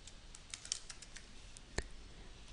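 A name being typed on a computer keyboard in a quiet room, with a quick burst of light key taps early on followed by scattered single presses and one sharper click near the end.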